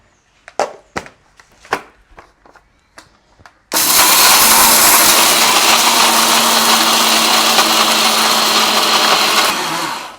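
A few sharp knocks and clatters, then a kitchen mixer grinder roars into a loud, steady grind of nuts and sesame seeds for about six seconds before it cuts off.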